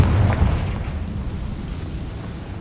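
A Confringo fire spell bursts in Hogwarts Legacy with one loud, deep boom at the start that rumbles away into a fading low roar.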